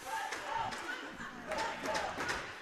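Hockey crowd at a junior varsity game between the QC Blues and Dubuque Saints, a distant, faint burst of cheering and chatter in a large rink, swelling twice within a few seconds.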